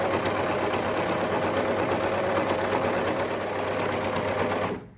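A sewing machine stitches steadily around a garment neckline, a continuous close whir that runs unbroken for nearly five seconds before cutting off abruptly at the end.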